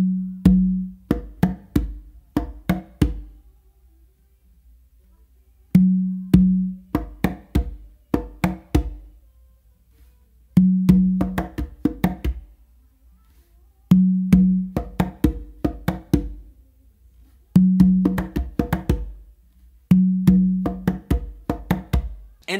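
Conga bass finger clave exercise, with repeating groups of crisp hand strokes and a deep bass tone opening each cycle, cycles separated by short silences, played close and alone.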